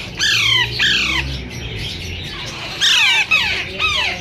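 Green ringneck parakeet chicks squawk at a Sunday bird market in Bahawalpur. Harsh, close calls come in two clusters of repeated squawks, separated by a brief lull.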